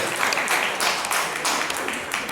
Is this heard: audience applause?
yes